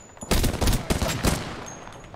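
Apex Legends gunfire in a battle royale match: several loud, rapid bursts of shots in clusters, with a steady hiss of background game noise and no talking.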